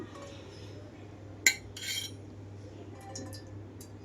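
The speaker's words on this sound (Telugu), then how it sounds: "ఇక్కడైతే పాన్ పెట్టుకున్నాను, దీంట్లోకి ఆయిల్ తీసుకుంటున్నాను." A cooking pan is set down on the stove for a cauliflower curry, with one sharp metallic clink followed by a soft pour of oil. Quieter clinks come after, over a steady low hum.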